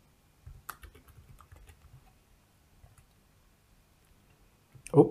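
Computer keyboard keys are pressed in short bursts in a text editor, quiet and close, followed by a louder thump at the very end.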